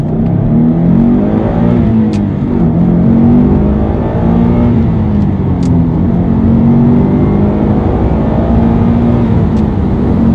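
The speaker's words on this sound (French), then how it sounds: "On va essayer notre petite accélération toujours en première lancée." A Subaru Legacy S401 engine revs steadily upward in first gear from about 15 km/h, a loud continuous drone with rising pitch heard from inside the cabin.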